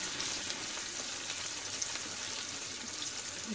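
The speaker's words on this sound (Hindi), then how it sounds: "इसके बाद हम इसमें डालेंगे कटा हुआ कांदा, मिक्स कर लेंगे अच्छे से।" Chopped onion fries with mustard seeds and cumin in hot oil, a steady, even hiss of sizzling that holds at moderate level without pauses or voices.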